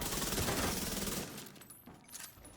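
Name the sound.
gunfire from the video game The Division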